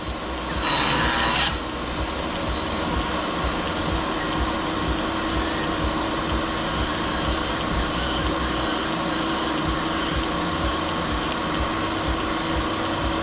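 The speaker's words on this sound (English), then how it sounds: "the crankshaft over now to go and grind on the left hand side" A TR4 crankshaft being ground on a regrind machine, a loud continuous abrasive whirr and hiss with a steady mechanical hum and a brief higher-pitched scrape near the start.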